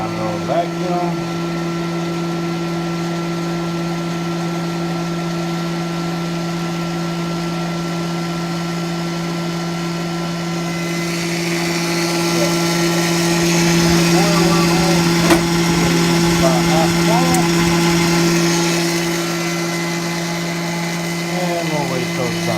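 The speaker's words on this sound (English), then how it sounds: "And you watch it pull down the old vacuum." Koch vacuum packaging machine, a bagger under repair, with its pump running as a steady loud hum and drone after the lid closes, growing rougher midway as it pulls down vacuum, with a voice talking over it.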